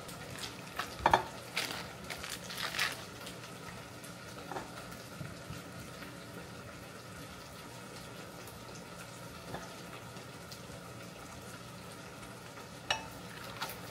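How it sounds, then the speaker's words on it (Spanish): Potatoes frying in a pan at home, stirred with a utensil: a soft continuous sizzle with a few louder scraping clinks near the start, fairly quiet and close, without speech. "Y esto se va a revolver con papita de la que Le saquemos a las papas ahorita."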